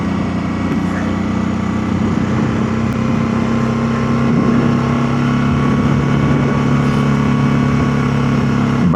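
Motorcycle ridden through fresh snow in Minnesota on brand new tires, a steady, loud droning engine hum with constant pitch close by, no talk over it.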